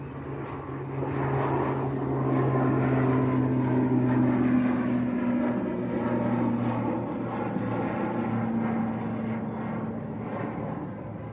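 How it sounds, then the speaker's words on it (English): An Aer Lingus ATR turboprop departs under high overcast at Manchester Airport, its steady propeller drone loud and close with strong tonal hums that hold for several seconds and then gradually fade. "Prop time, Aer Lingus ATR. This one's off back to Belfast."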